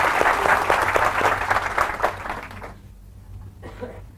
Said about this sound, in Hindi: देखो तालियों के चक्कर में